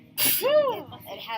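A single sharp sneeze bursts out close to the mic, followed by a short voiced tail as a person speaks briefly afterward.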